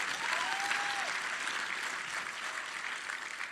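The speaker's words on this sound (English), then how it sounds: "You may applaud." Sustained, dense applause from a panel audience at a Gearbox gaming convention event, steady and fairly loud for the full stretch with a faint tone whistling briefly near the start.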